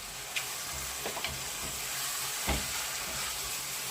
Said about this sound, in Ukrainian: І теж обсмажуємо м'ясо до стану, коли воно побіліє